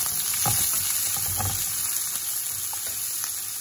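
Garlic and small onions sautéing in a pan for a curd kurma: a soft, continuous sizzle with occasional stirring scrapes and light pops, close and fairly quiet, no voices.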